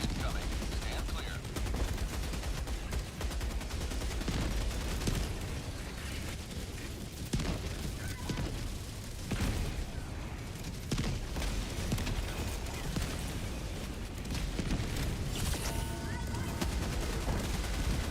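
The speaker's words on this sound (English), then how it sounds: "Orbital barrage incoming. Stand clear." A continuous, dense barrage of explosions and gunfire from an orbital barrage strike in the video game Helldivers 2, loud and sustained throughout with repeated booming impacts and rattling shots.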